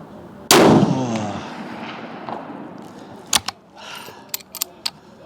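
A Swiss Martini Jagdstutzer rifle fires one loud, close shot with a long fading echo, followed by several sharp mechanical clicks and clacks of the action.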